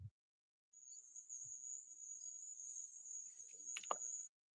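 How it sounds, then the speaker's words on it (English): A single cricket chirps in a continuous high, thin trill that runs steadily for several seconds, close and clear against quiet, with a faint thump at the start and a brief clatter near the end before it stops. "No, I hear crickets"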